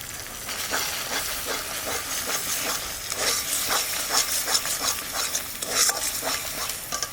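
Ground spices fry in a yogurt masala for dum aloo, a steady hissing sizzle cut by repeated scraping stirs from a spoon against the pan. The sound is moderately close, with no talking.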